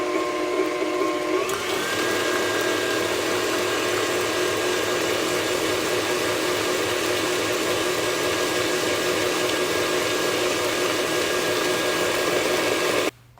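An electric mixer creams eggs into cheesecake batter for a margarita cheesecake, its motor starting up then whirring at a steady, loud, constant pitch for several seconds before cutting off abruptly, with no talking.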